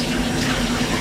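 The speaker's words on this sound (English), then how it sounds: "And you wash the hand quickly." Hands being washed under a running kitchen sink tap, a close steady rush of water with a faint hum and no speech.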